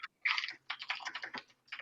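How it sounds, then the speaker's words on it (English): Typing on a mechanical computer keyboard gives quick clusters of sharp, clacky keystrokes in short bursts separated by brief pauses, close and moderately faint. "whoever has a mechanical keyboard, it's coming through very loudly"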